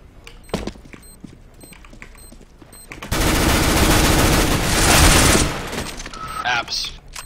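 An AK rifle in a tactical shooter video game fires a sustained automatic burst lasting a few seconds after some quieter game clicks and a voice, then trails off into scattered effects.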